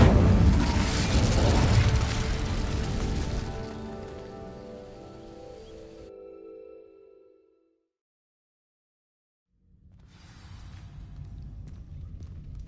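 An Incendio fire spell in Hogwarts Legacy sets dry vines alight, with a loud crackling, rushing burn that fades away into silence before a low ambient rumble returns.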